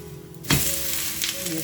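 A breakfast dish fries on a pan over medium flame, a sharp hiss bursting up as it is flipped, then settling into a steady close sizzle.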